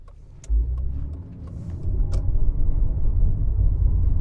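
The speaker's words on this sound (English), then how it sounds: "So here we go in the economy BMW" A BMW E28 525e economy sedan driving on the road, its engine note and tyre rumble rising steadily as the car pulls away, heard from inside the cabin, with a few faint creaks and clicks and no talk.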